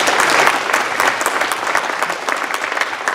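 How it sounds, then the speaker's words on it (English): Audience at a county board candidate forum clapping for a panel of questioners, a loud, close burst of many hands with a busy, crackling texture that stays strong from start to finish. "Could we give them a round of applause?"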